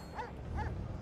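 Two short dog barks or yips from a dog in Divinity Original Sin 2, spaced a fraction of a second apart over a low game-ambience rumble, moderately close and fairly quiet.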